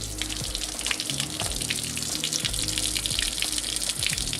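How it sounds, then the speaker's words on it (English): Water gushes steadily out of a coolant hose during a coolant flush on a 2008 Lancer, a continuous splashing, hissing flow close to the microphone with no talking. "the water actually is still coming out a little bit green"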